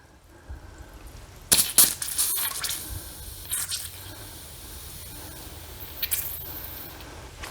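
Water spurts and sprays from a home water filter as trapped air is purged, with sharp hissing bursts and splashes, then a steadier trickle running and dripping nearby.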